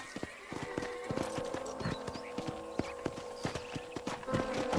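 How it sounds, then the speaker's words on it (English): Horse hooves in the Western video game Red Dead Redemption clop in a steady walking rhythm, close and clear, over a soft ambient hum with faint tonal sounds, and no talk. "I picked out a fine horse for you."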